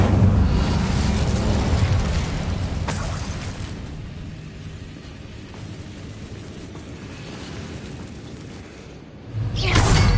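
An Incendio fire spell cast in Hogwarts Legacy, a loud roaring whoosh of flame that starts strong, eases into a steady rushing burn and swells again with a fresh burst near the end, with no voices.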